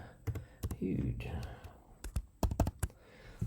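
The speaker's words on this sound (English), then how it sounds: "I'm not very fast at typing" Someone types on a computer keyboard, a quick irregular run of close, crisp key clicks, with a short bit of soft speech mixed in.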